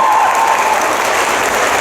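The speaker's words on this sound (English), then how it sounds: "Give her an applause, everyone" A Comic Con crowd at a Q&A session with Lana Parrilla breaks into loud, close applause, a thick burst of clapping with faint cheering that carries on through the short stretch.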